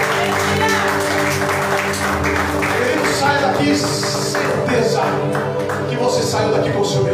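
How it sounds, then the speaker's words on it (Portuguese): A congregation applauds at a religious worship service, a dense, sustained clapping spread across the whole stretch amid a busy, reverberant room. "levanta as tuas mãos para cima e dê uma salva de palmas para Jesus Cristo"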